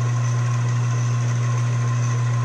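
A lathe turns a bronze bushing during a quiet stretch of machining, a steady loud motor hum with constant tonal whine and no cutting bursts.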